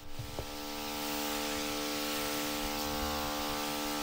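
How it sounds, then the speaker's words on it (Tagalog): A sprayer hisses steadily over tomato plants, a constant buzzing mist with a motor hum beneath it, starting after a brief knock and then continuing unbroken. "mag-spray tayo sa kamatis"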